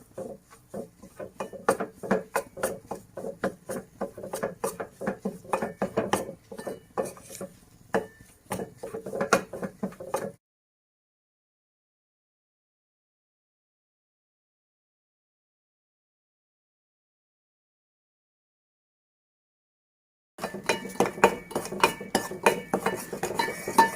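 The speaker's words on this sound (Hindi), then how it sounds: "अब स्लोली हम इसको इस तरीके से घुमाते रहेंगे।" Sooji besan halwa is stirred in a pan over a slow flame, with a spoon scraping and clinking against the metal in steady strokes up close for about ten seconds, then silence for ten seconds before the stirring resumes.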